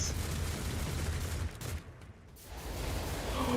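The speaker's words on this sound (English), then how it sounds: "Oh shit, heavy bolter turrets!" Heavy bolter turrets in Rogue Trader rattle off a faint, distant burst of rapid fire that drops away in the middle, then swells again toward the end.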